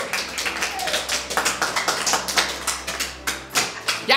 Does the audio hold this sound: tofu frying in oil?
no